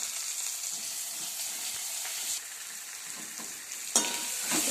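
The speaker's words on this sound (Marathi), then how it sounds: "टोमॅटो चांगलं परतून घ्यायचं चांगलं मऊ होईपर्यंत" Tomatoes sauté in a pan after onions and a coconut, coriander and ginger paste, for a village-style matki curry. A steady, close sizzle carries throughout, with light scraping stirs and a sharper clink near the end.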